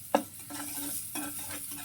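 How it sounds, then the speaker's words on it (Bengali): Turmeric, chili powder and salt being stirred in a pan for a shrimp and bottle gourd curry, with a sharp scrape near the start and then soft, steady stirring and faint sizzle, no talk. "এবার দিয়ে দেব হলুদ মরিচের গুঁড়া, লবণ একসাথে দেব, দিয়ে আর একবার একটু কষিয়ে নেব।"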